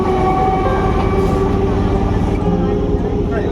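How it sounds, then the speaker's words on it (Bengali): A train running near a station on the way to Khirai gives a loud, steady rumble and rattle of wagons from on board, with constant clattering throughout. "ট্রেন ছেড়ে দিল"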